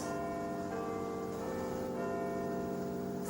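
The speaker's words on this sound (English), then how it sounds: "the church bell struck 1 and startled Scrooge from his dozing" A church bell rings with a sustained, resonant tone, its long hum lingering and slowly fading; quiet and somewhat distant, with no voices.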